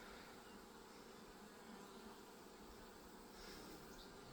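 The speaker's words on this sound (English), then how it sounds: "Oh neat, there's a leaf cutter bee on my hand." A leafcutter bee buzzes close by in a steady, faint drone that holds evenly throughout with no voices.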